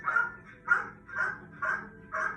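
A cadaver dog barks in a basement, five evenly spaced, fairly loud barks in a steady rhythm with brief pauses between them.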